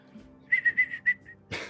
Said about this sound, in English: Whistle Dixie for me, tough guy.